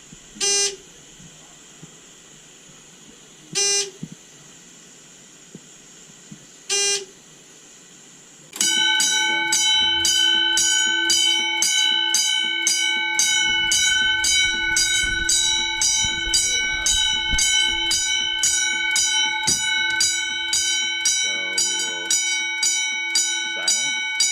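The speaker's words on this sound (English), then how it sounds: "heat torch going here. See if this detector actually goes off." A fire alarm bell triggered by a heat torch on a detector during a system test rings loud and continuous with rapid repeated strikes. Earlier, three short tonal beeps sound, and someone talks over the ringing.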